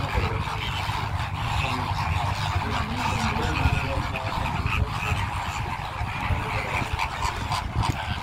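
Assorted birds call over steady ambient noise in a mangrove forest at a flamingo site in Dubai, with croaking and honking cries overlapping continuously at moderate distance and no talk.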